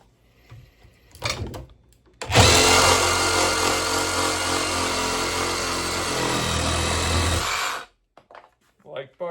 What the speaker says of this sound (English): They also make an awesome one-hand compact saber saw.